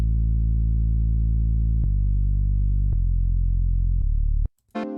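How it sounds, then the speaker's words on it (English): A synth bass patch built from a single saw wave through a 24 dB-per-octave low-pass filter with key tracking and filter drive plays sustained buzzy low notes, changing pitch every second or so before cutting off. "This is a single saw wave with a low pass, 24 decibels per octave, key tracking, and filter drive"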